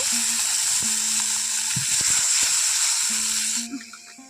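Spice paste for bitter gourd fries loudly with added water, a bright steady hiss with intermittent stirring knocks and faint tonal hum, cutting off abruptly near the end.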